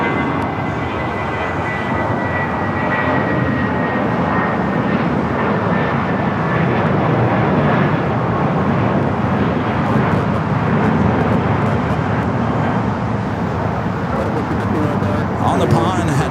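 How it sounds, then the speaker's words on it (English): Spirit Airlines Airbus A320 takes off at night from runway 25 right at Los Angeles airport, a steady broad jet roar rumbling throughout, with speech over it. "we do have a Spirit flights heading to Vegas, flight 1637 at A320, taking off 25 right"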